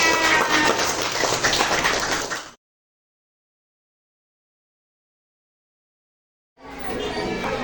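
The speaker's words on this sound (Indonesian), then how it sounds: "Tepuk tangan ya." Children in a classroom applaud in a dense burst of clapping, which cuts off abruptly into several seconds of silence before the clapping resumes just as loudly.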